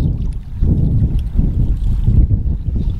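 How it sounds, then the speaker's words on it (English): Strong wind gusts roar steadily across the microphone beside a creek in Montana, a continuous low buffeting rumble that swells and eases for a few seconds with no voices. "That wind is picking up."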